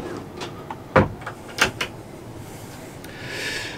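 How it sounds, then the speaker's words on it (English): A pull-out storage drawer in a motorhome at a motorhome and caravan show slides and bumps shut, giving a few sharp knocks and clicks over a steady background hiss. "Pull out drawer for more storage."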